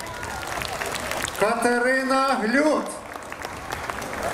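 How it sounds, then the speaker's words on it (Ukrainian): Festival crowd applauds steadily in the background while a presenter calls out a name, the clapping continuing under and after the voice. "Ваші оплески!"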